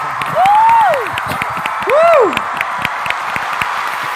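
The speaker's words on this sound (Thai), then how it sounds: "ขอเสียงปรบมือกับเจนนี่ลิลลี่" A stage show audience applauds and cheers, a continuous crowd wash broken by two rising-and-falling whoops or whistles, loud and close.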